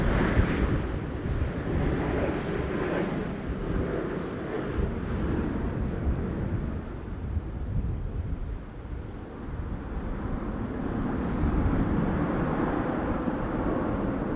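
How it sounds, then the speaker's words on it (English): Broadband roar of a landing aircraft's thrust reversers at Schiphol Airport, a sustained loud rumble with shifting low-frequency swells that holds steady for the whole stretch, with no voices present. "Reversers being applied there, quite clearly audible"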